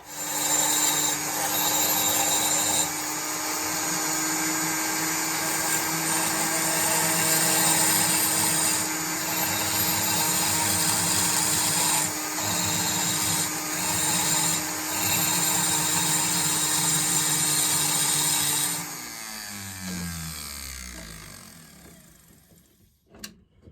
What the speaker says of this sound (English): This is what I use for a Dremel. It's just a foot pedal controlled unit is all it is. But let me start grinding out some material here.